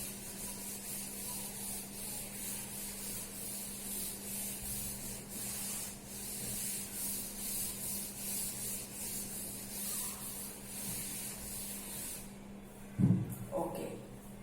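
Rhythmic back-and-forth rubbing as writing is wiped off a classroom board, a steady soft swishing that continues for several seconds before a louder knock near the end.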